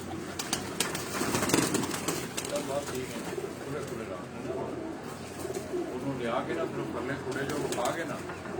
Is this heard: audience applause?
no